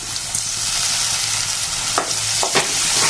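Onion and tomato sauté in hot oil with a dense, continuous sizzle, close and loud, broken by a few scraping stirs of a spatula toward the end.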